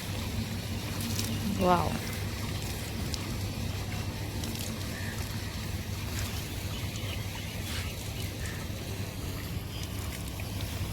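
Water pours onto potato plants in a home garden, making a steady, even hiss and splash that runs the whole time. A voice gives one brief exclamation early on.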